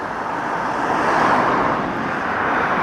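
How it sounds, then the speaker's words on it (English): A low-flying airplane passes right overhead near Hatton Cross Station in London, making a loud, continuous broadband roar that swells slightly and then holds steady throughout. "There goes the plane. Plane has gone past."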